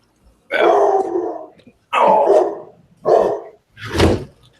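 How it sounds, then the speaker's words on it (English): A large dog barks close and loud, four heavy, separate barks spaced roughly a second apart, with a growly edge, heard alone without talk. "the big giant barking noise behind me"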